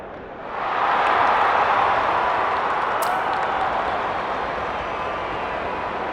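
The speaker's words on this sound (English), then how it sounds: "The crowd already making plenty of noise as the captains come together." A stadium crowd roaring before an AFL match between Hawthorn and Adelaide in AFL 23, a broad, steady wash of cheering that swells quickly and holds loud throughout.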